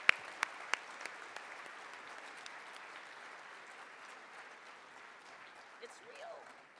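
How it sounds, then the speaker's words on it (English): A luncheon audience applauding an award recipient at a seismological society awards event, with steady, moderately distant clapping from many hands that holds evenly throughout, opened by a few sharp nearby claps. "please join me in a round of applause"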